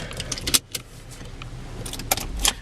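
Set of car keys for a 2012 Chevy Equinox LT jangling close by in bursts, a few sharp metallic clinks over a low steady rumble inside the vehicle, no talking.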